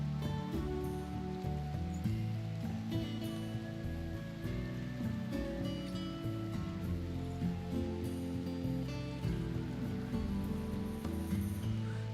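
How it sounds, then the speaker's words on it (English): Steady rain patters throughout in the video game Rimworld, a continuous soft hiss mixed under tonal game music with no voices. "Oh, it's raining."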